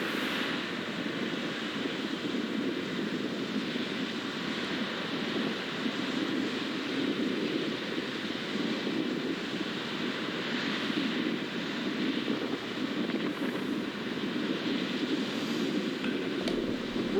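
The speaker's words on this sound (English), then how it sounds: "There's really big crashing waves." Whitewater rapids at Disaster Falls, with big waves crashing through the river channel, make a steady, loud, broadband roar and rush that runs unbroken for the whole stretch, with no voices.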